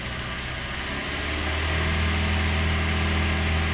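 A Maruti Swift Dzire engine runs during decarbonization, a steady close idle that swells into a louder, sustained rev partway through, with no talking.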